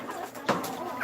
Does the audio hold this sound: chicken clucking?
yes